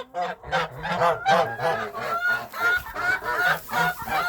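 Geese sitting on eggs honk and scold loudly and continuously at close range, a harsh nasal stream of repeated calls with barely a pause as someone reaches toward the nest.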